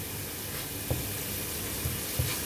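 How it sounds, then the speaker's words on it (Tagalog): Minced beef and sausage frying together in a pan, a steady dense sizzle with a few soft stirring knocks, close and continuous with no talking. "pinagsabay-sabay ko na siyang prenito, yung beef, minced beef, yung sausage"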